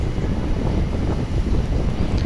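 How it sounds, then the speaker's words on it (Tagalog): Strong wind at a Manila Bay beach buffets the microphone in a dense, constant low roar, loud and close, with nothing else clearly audible. "Tsaka sobrang mahangin dito"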